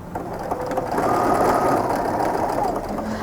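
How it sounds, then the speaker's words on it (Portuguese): Patchwork strips pass through a sewing machine in a continuous rapid stitching run, close and loud, with someone talking over it. "nós vamos costurar essa primeira filinha nessa segunda fila daqui"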